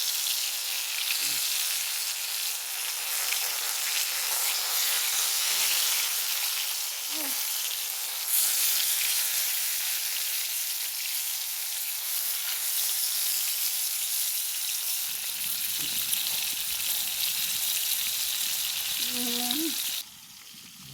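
Fish frying in hot oil in a home kitchen gives a loud, steady hiss and crackle that runs unbroken throughout, with a few soft clinks and a brief voice near the end.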